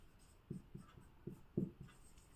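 Chalk or marker writing on a board during a game theory lecture, a series of short scratchy strokes in an uneven rhythm, close and clear, with no talking.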